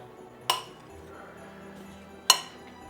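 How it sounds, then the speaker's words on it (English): A utensil sounds twice against a bowl as mozzarella nibs and tomatoes are stirred together, two bright, separate clinks about two seconds apart, with only faint soft movement in between. "So I'm just going to stir these together"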